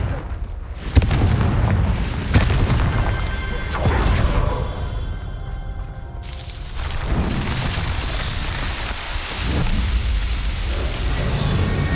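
Confringo spell explosions in the Hogwarts Legacy video game, heard as loud, dense booming bursts with sharp impacts early on and a continuous rumbling roar throughout, close and heavy.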